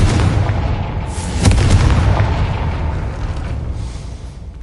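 A Confringo fire spell blast in the Hogwarts Legacy video game, heard as a loud booming explosion with a sharp burst near the middle and a rumbling tail that fades slowly, with no talking.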